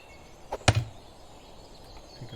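A single solid axe strike into a tree trunk in the medieval survival game Medieval Dynasty, preceded by a faint lighter tick, then quiet outdoor ambience.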